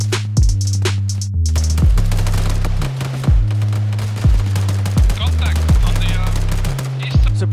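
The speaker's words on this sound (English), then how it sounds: "Machine gun, heavy machine gun." A heavy machine gun in Arma 3 fires loud, rapid bursts, one after another, in a steady pounding rhythm with short gaps between volleys, close and dominant.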